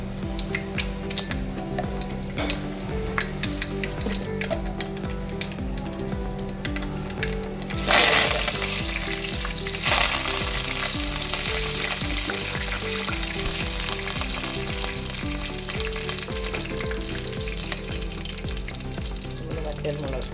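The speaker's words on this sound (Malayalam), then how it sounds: "ചൂടായ എണ്ണയിലേക്ക് 1 സ്പൂൺ കടുക്, ഒരു 1/4 സ്പൂൺ വീതം ഉലുവ" Mustard seeds and fenugreek frying in hot oil, a steady close sizzle with faint popping and crackling, two sharper bursts partway through, and no talking.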